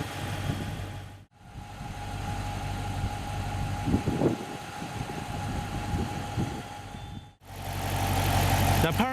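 A 2017 Dodge Charger R/T with a 5.7-liter Hemi V8 idles with a steady low rumble, its hum running beneath a voice with a couple of brief dropouts.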